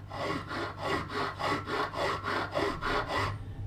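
Light, even file strokes sharpening the teeth on a sawback knife, about seven rhythmic rasping passes in a row, close and clear.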